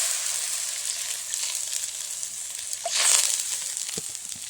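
Water poured into a hot kadai while cooking a pumpkin curry hisses in a steady, close sizzle that swells briefly near the end, with a few faint utensil clicks.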